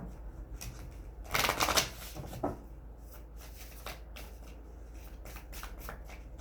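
A deck of tarot love advice cards is shuffled close up, a dense riffling burst followed by lighter scattered flicks and taps of cards being handled; quiet, no talking.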